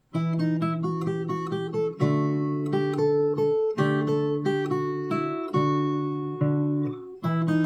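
Fingerstyle acoustic guitar picks the verse of a song, with plucked notes and two-string pinches ringing in a steady, unhurried melody. Played close and clear, solo with no voices.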